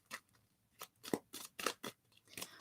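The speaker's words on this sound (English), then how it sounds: "So I'm going to have to get another shuffle because that's not fair." Tarot cards being shuffled by hand, a series of crisp riffling and snapping bursts, about eight in quick irregular succession, close and fairly quiet with no talking.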